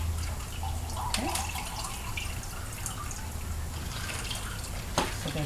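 Cold water is poured low into a pan while making peach cobbler, a light trickle and drip with a few small splashes close by, heard alone without talking.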